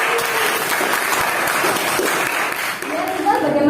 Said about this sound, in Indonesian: Berikan tepuk tangan dulu untuk Rizal.